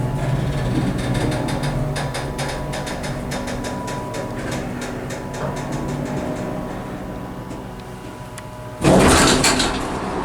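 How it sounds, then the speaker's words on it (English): Door of a newer OTIS Lexan hydraulic elevator in an office building, a long rumbling, rattling slide with a run of fine clicks, ending in a loud, abrupt thud as it shuts hard, heard alone. "Jeez, that door was aggressive."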